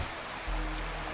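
Steady rushing waterfall ambience from the video game Wuthering Waves, a continuous broadband roar of falling water with a deeper low rumble swelling midway, loud and unbroken with no voices.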